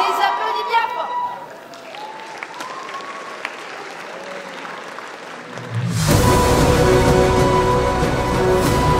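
A cosplay contest audience at Polymanga 2019 applauds the group Rebelle. After a few seconds of a voice speaking over a quiet hall, dense, loud clapping and crowd noise burst in and continue steadily to the end.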